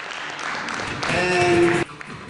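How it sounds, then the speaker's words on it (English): An audience applauds student presentations at a moral values presentation competition, a dense wash of clapping that swells louder midway and then cuts off abruptly, with a tonal hum running beneath. "He called on the audience for a repetition of applause for the presentations."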